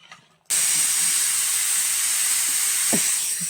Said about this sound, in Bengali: গ্যাস ছাড়া তরকারি ফুটছে টকবক টকবক করে